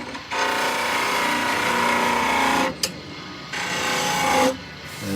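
A spindle gouge cuts a deep half bead on a wood lathe. It makes a raspy scraping hiss in two long passes, broken by a short pause and a brief sharp tick, close and fairly loud with no voices.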